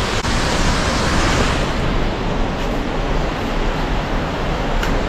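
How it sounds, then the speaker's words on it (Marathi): Girmal waterfall near Saputara in Dang roars in a loud, unbroken rush of falling water that stays constant throughout, with no speech. "धबधब्याचा जो आवाज आपण या ठिकाणी ऐकू शकतो"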